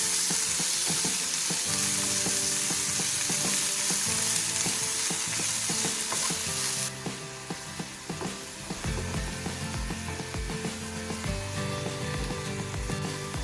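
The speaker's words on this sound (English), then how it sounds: "add this ajwain leaf in the pan and saute nicely" Ajwain leaves sautéing in a pan for a South Indian yogurt soup, giving a steady, close sizzle that starts dense and bright, then settles into a softer fry with intermittent stirring scrapes.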